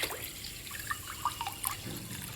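Water pouring into a pressure cooker holding kodo millet, rice and lentils for sweet pongal, a soft continuous trickle and splash with a few brighter drips, close up and steady throughout.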